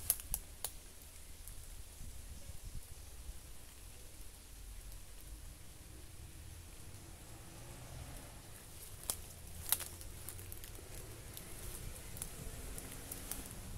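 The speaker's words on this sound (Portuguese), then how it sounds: "Tá pegando chuva de novo." Rain falls steadily at an abandoned site in the woods, a soft continuous patter heard close by, with a few sharper drips and knocks scattered through it.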